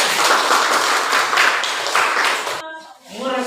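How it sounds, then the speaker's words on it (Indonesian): Applause from a classroom of students fills the first few seconds as a dense, loud patter of claps, then stops abruptly, and a voice follows. "Tepuk tangan."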